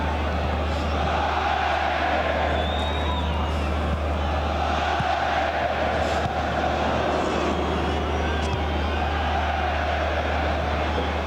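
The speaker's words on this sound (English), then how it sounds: "You're listening to some of the French supporters cheering for Juventus" French supporters cheer for Juventus in a stadium during the UEFA Super Cup final against PSG, a dense, continuous roar of the crowd with a steady low hum underneath, heard at a distance without any clear words.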